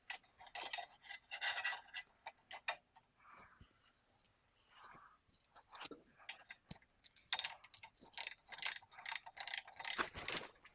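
A ratchet clicks in quick bursts as exhaust bolts are tightened on a vehicle during an exhaust swap, the ticking close but fairly quiet, separated by pauses and faint handling sounds.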